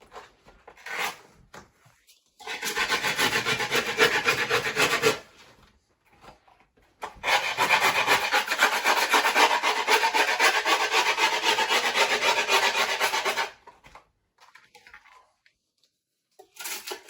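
A drill bit boring through a wooden skateboard deck, heard as two long gritty rasping bursts of a few seconds each, separated by a short pause, with brief scraping touches before and after.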